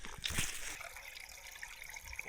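Small mountain stream trickling beside a lakeside trail in the Czech mountains, a faint steady watery babble with a brief louder splash near the start.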